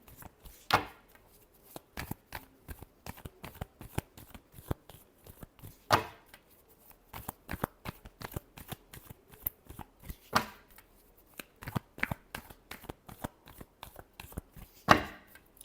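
Tarot cards are shuffled close by in quick papery riffles and taps, an irregular run of sharp flicks with a few louder slaps, quiet overall.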